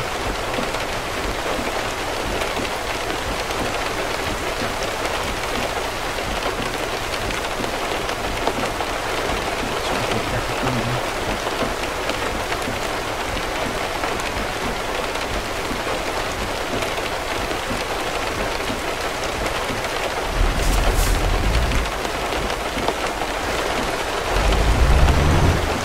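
Steady heavy rainfall in Euro Truck Simulator 2 drums loudly and continuously on the truck, a dense even hiss with no voices, swelling briefly louder near the end.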